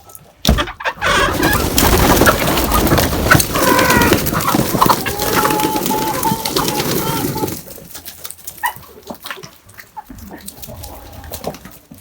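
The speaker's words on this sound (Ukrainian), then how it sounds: "А зараз послухаємо, як наші курочки співають." Hens cluck and call loudly and close together in a continuous chorus, with a few sharper squawks, then quieter scattered clucks toward the end.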